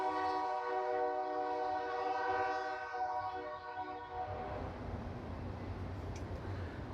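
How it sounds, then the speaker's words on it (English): A horn blares loud and long from a long freight train passing close by, then fades as the rolling rumble and rattle of the cars carries on alone. "It's a big, long freight train, so it's going to have a long ways to go here."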